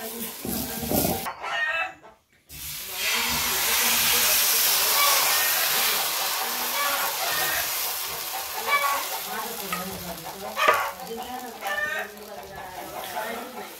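Ghavne rice batter sizzles on a hot griddle over a village wood-fired chulha in Konkan, a steady, close frying hiss running throughout beneath people talking.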